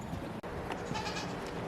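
Goats in a pen among nursing kids, giving soft, faint bleats amid steady barnyard background noise, with one brief dropout partway through.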